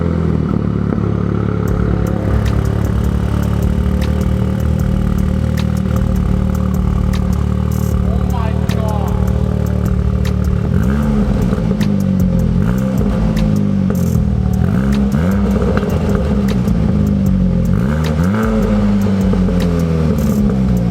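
A Golf R fitted with an AWE SwitchPath exhaust rumbles loud and close, settling into idle and then blipping through several sharp revs that rise and fall, with someone talking over the engine.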